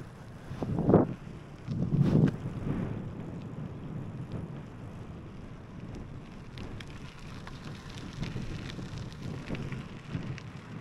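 Strong wind roars during a gravel road bike ride, buffeting loudly in two heavy gusts early on, then settling into a steady rushing blow with lighter gusts.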